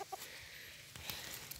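Old wild junglefowl caught in a trap, giving a few brief faint clucks over a hissy outdoor background.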